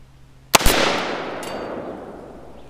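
An AR-15 rifle built from a budget kit fires two quick, sharp shots outdoors, followed by a long fading echo and a fainter later report.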